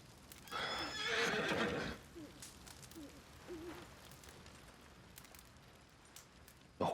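A horse whinnies once in Red Dead Redemption 2, fairly close, followed by a few soft hoof thuds against a quiet, hissing outdoor background at a campfire.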